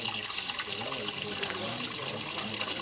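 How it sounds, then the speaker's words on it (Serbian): Steady broadband rush of water pouring from a village public fountain in the centre of Krivi Vir, continuous and fairly close with no pauses. "Ovo je seoska česma u centru sela."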